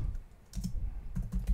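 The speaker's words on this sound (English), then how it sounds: "If you have selected a cell and you just start typing" A few soft keystrokes tapped on a computer keyboard while entering data into a spreadsheet cell, quiet clicks in two short clusters.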